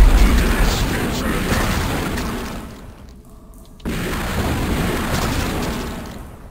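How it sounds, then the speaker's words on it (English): Walls blowing apart in the video game Shadow Warrior, a loud booming explosion that rumbles and fades, then a brief near-silence before another dense burst of game noise. "These walls are going to explode, revealing those three Uzi missile launching demon-like things."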